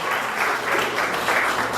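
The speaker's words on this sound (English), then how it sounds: "clap it up" Comedy club audience applauding, a dense, even wash of many hands clapping at once, loud and sustained without a break, no speech over it.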